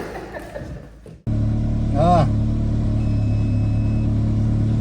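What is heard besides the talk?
Ferrari engine revving as Paul drives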